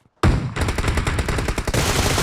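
Loud, close automatic gunfire in PUBG Mobile cracks out as a rapid burst of shots right after a brief silence, with no talking over it.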